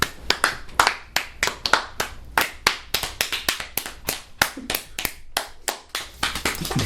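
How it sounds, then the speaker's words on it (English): A few people clapping at a comedy show, sharp, distinct claps in a quick, uneven rhythm, close and fairly loud with no talk over them. "Can we get some clapping?"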